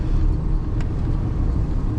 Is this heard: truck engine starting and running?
yes